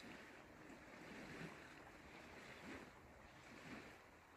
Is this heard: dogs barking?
no